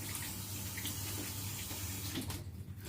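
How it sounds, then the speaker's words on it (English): Tap water runs steadily into a sink as hands are washed beneath it, a close, continuous splashing rush that eases off at the end. "let me just wash my hands quickly"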